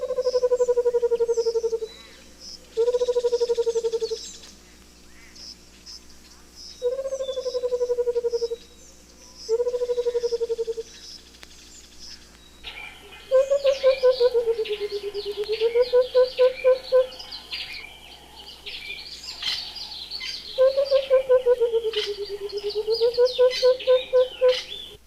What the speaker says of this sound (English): The white-browed cuckoo has a series of strange, deep, bubbling notes which resemble water being poured into or out of a bottle.